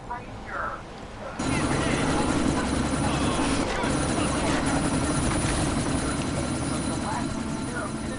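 Helicopter in the video game Deus Ex: Mankind Divided, its rotor chop and engine roar starting abruptly and holding loud and steady, with voices talking over it.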